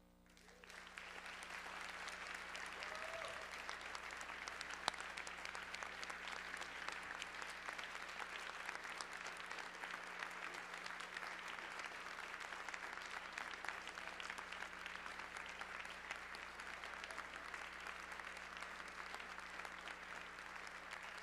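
Sustained audience applause fills a conference hall after a keynote opening address, steady dense clapping that rises quickly and holds loud without a break for about twenty seconds, with no talking over it.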